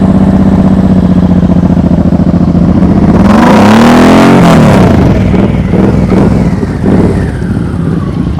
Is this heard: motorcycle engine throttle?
yes